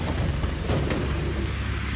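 Dense, steady rush of rain mixed with gusty wind noise, loud and constant throughout with no pauses.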